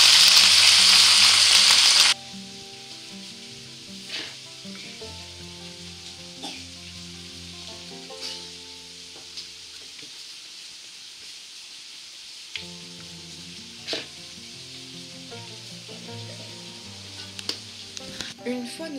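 Onions cooking with brown sugar sizzle softly in a pan, a low steady frying hiss with occasional stirring taps, after a loud burst of hiss at the very start; faint voice in the background.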